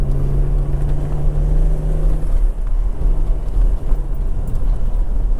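Steady loud engine drone of a car climbing Devil's Staircase in Wales in second gear at around 15 to 20 mph, with a low rumbling tone that holds evenly throughout, close and alone.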